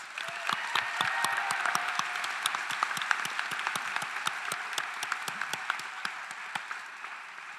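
Round of applause at a physician assistant and DMSc commencement ceremony, a dense crowd clapping at moderate distance with distinct sharper claps standing out, steady throughout and gently tapering.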